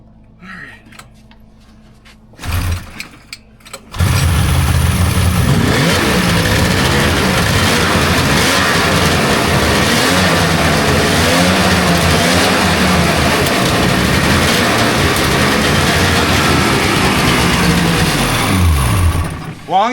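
A rebuilt 1999 Polaris XCR800 snowmobile engine fires up after a short quiet stretch, then runs loud and steady with rising and falling revs close by, with voices talking over the roar.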